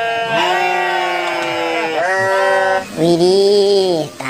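Sheep bleating loudly and close, several drawn-out wavering calls in a row with a short gap before a final strong bleat, heard alone without talk.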